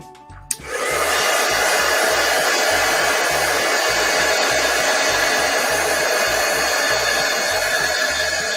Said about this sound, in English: While I use the heat tool to dry this.